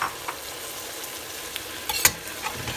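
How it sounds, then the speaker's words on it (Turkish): Onions, tomato paste and chopped tomatoes sauté in a pan with a soft, continuous sizzle, broken by a few sharp clicks and scrapes of stirring, close and fairly quiet. "Bu aşamada domateslerimizi de ekliyoruz kavrulması için."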